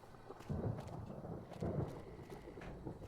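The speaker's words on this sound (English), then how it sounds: "Ooh, and I am hearing thunder." Faint, distant thunder rumbles in the video game Fallout: New Vegas, two soft low rolls over a quiet background.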